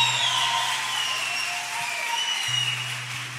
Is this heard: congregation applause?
yes